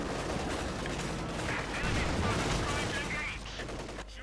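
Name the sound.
mortar firing in video game Company of Heroes 2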